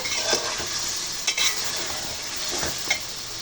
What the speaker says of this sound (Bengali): মাংস কষাই হয়ে গিয়েছে